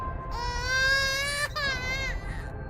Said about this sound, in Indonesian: 1 jam kemudian terdengar suara tangisan bayi kecil